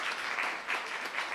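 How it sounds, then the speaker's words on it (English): Audience applause for a professor at an academic session, a brief steady burst of dense clapping from a room full of people. "Can you give Prof a round of applause?"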